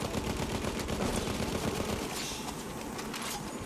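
Machine gun firing in Battlefield 1, a rapid sustained burst of close, loud gunshots for about two seconds, then the rattle thins into a fainter, sputtering stream of shots as the weapon overheats.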